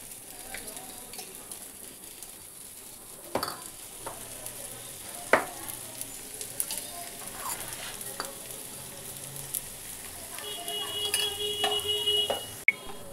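Egg semolina paratha frying in a pan, a soft steady sizzle with a few sharp clinks and scrapes of a spatula against the pan, fairly quiet and close, no talking.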